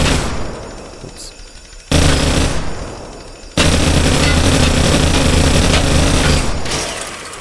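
Loud, sustained bursts of gunfire from a Minecraft TaCZ gun mod weapon, v1.1.5, firing in two long continuous streams separated by a brief lull, close and dense.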